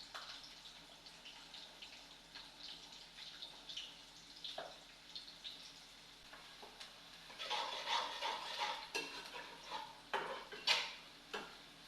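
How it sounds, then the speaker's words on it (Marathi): Cumin seeds and onion fry in hot oil, giving a faint, uneven sizzle with scattered pops and crackles that grow busier and louder toward the end. "तेल तापत ठेवलेलं आहे त्यामध्ये जिरे टाकणार"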